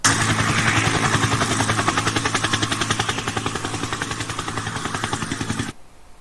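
A helicopter's rotor beats in a loud, steady, rapid chop for nearly six seconds, then drops away sharply into quiet.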